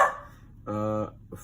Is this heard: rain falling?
no